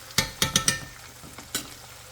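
Ingredients for Singaporean fried rice stirred in a frying pan: four quick scraping clatters close together, then a pause and one more scrape, with a soft sizzle underneath and no talking.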